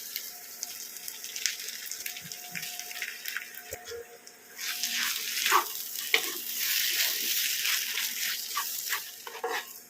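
Boiled potato goes into a spice mix frying in a pan, and a louder sizzle with stirring starts about halfway through. Before that there is a quiet stretch with small clinks and faint water sounds.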